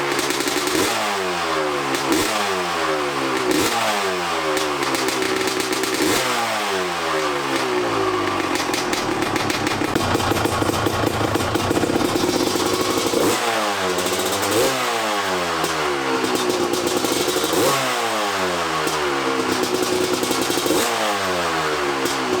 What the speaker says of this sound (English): get a sound clip of the old exhaust on the CR250